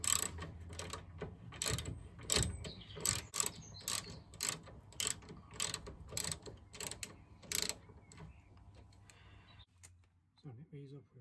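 Ratchet tightening T50 Torx bolts on the rear suspension trailing arm of an MG TF, a run of rapid clicking bursts up close, with a voice speaking over the work before it stops.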